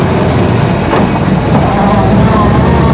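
Vintage Rolls-Royce cars pulling away on Route 20 after a road-construction lineup, a steady low engine and road rumble with wind buffeting, continuous and fairly loud.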